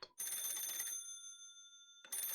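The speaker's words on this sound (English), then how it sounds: "The next day, the phone rings." An old-style telephone bell rings in the video game Paranormasight: The Mermaid's Curse, two bright bursts of ringing separated by a quiet gap with a fading tone.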